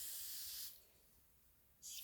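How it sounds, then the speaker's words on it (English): Water sprays onto seed-starting trenches of coir in two short, close hissing bursts separated by a brief pause. "spray down those trenches too."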